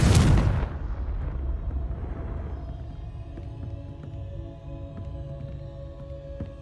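A Confringo blasting spell in Hogwarts Legacy detonates with a sharp, heavy boom at the start, followed by a long rumbling decay under steady game ambience with faint ticking.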